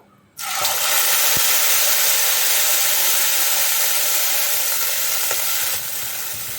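Ground tomato tipped into spices in hot oil for malai mushroom, bursting into a sudden loud, dense sizzle that holds steady and eases slightly toward the end, close up with no voices.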